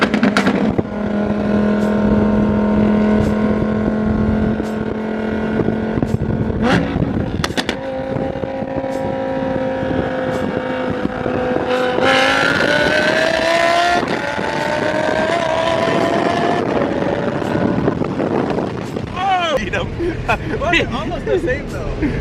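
A Nissan GT-R and a Lamborghini race side by side, engines revving hard with rising pitch through gear changes and loud sustained acceleration, while excited voices talk over the roar.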